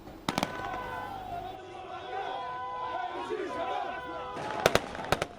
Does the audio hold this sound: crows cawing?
no